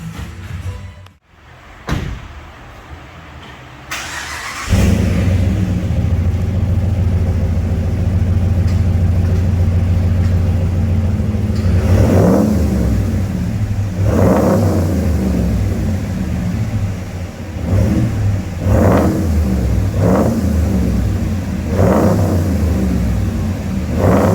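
A Ram truck with a DT 409 stainless cat-back exhaust and big stainless muffler starts and settles into a deep, steady idle, then is revved in a series of short, loud throttle blips.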